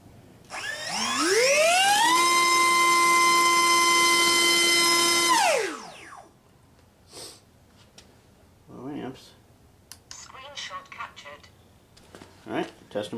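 A 5 by 4.5 inch racing-series propeller on a test stand spins up with a rising whine, holds a loud steady multi-harmonic tone for several seconds, then winds down; afterward faint handling noises and brief sounds follow.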